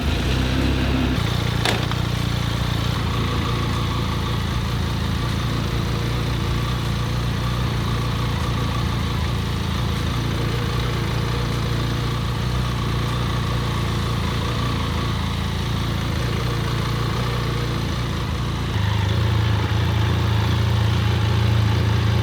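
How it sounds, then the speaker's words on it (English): A motorbike engine runs at a steady idle, a loud close low rumble holding constant for about twenty seconds before shifting to a slightly different pitch near the end, with no talking. "Now let's start the bike up."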